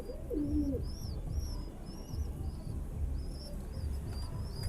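Pigeons in a loft: one soft, low coo near the start, then quiet rustling and faint repeated high chirps from chicks throughout, all at low volume.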